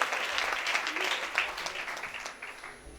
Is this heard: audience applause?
yes